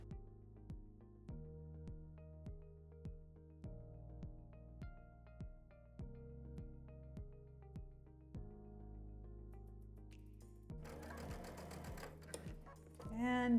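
A sewing machine back stitches the collar of a quilt coat. The motor hum is steady, needle ticks repeat rapidly and change speed in short runs, and the sound is close and even.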